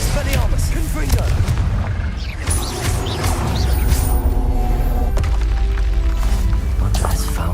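Explosive spell blasts and magical combat in the Hogwarts Legacy video game, a dense continuous barrage of booms, crackles and impacts layered under game music, with a voice calling out spell names.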